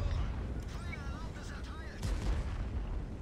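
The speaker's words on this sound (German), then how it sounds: "Darauf ein Schuss, das wäre ganz geil." Tank cannon fire from the World of Tanks video game booms in heavy, rumbling bursts during a 10 vs. 10 battle, loud and continuous, with someone speaking German over it.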